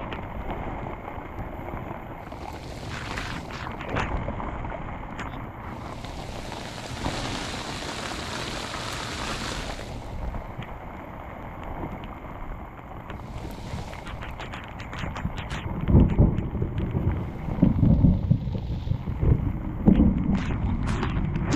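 Heavy rain and gusting wind on an open cucumber farm, a steady broadband roar with stronger bursts and some louder close drumming near the end.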